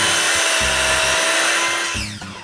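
A chop saw clamped on a workbench cuts wooden window frame pieces to length. The motor whines steadily and up close, then winds down at the end.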